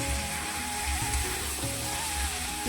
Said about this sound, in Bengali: চিকেনটা এখন ভেজে নিলাম